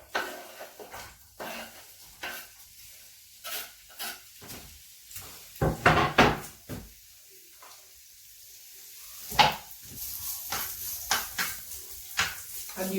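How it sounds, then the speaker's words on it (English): Chopped onion fries in a pan of hot oil for an Italian carrot lasagne, a faint steady sizzle under clinks of a utensil and pan knocks, with some talking in between. "And you fry your onion until it becomes translucent."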